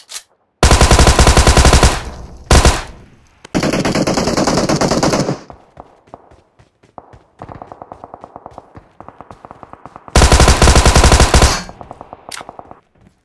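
Automatic gunfire in the PUBG Mobile video game, loud rapid bursts of machine-gun fire in several long strings separated by short gaps, with quieter single shots and smaller bursts in between.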